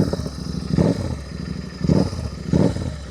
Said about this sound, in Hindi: अभी तो ये सिर्फ वो थ्रॉटल साउंड है जो मैं ऐसे ऐसे करके दे रहा हूँ